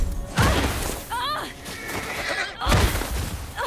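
Horse in a video game (The Last of Us Part I) whinnying loudly twice amid game action sounds, with a thump and hoof-like noises between the neighs.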